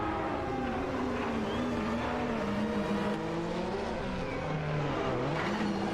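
Loud, close video-game race engines from Aston Martin AMR1 and Porsche 962C long-tail cars snarl and whine continuously, pitch rising and falling through gear changes and corners.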